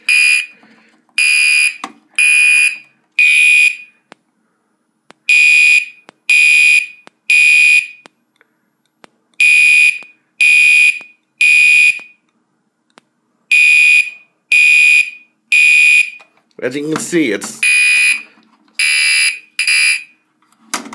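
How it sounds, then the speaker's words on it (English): Blue Gentex Commander3 fire alarm horn running on 9 volts instead of 24, blaring in loud repeated bursts in groups of three with short gaps, briefly interrupted by someone speaking. "The strobe flashed just right and the horn's really loud."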